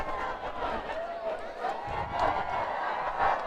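Home crowd at a Viking high school football homecoming game on a warm, windy night, keeping up a steady roar of cheers and shouts. Swells rise now and then over a loud, continuous crowd bed.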